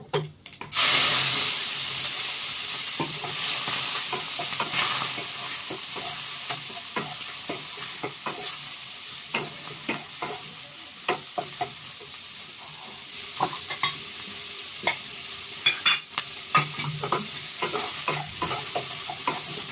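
Small native shrimp hit hot oil tempered with radhuni for a mankochu dish, a sharp burst of sizzling that settles into a steady fry with repeated spatula scrapes and clicks, close and without voices.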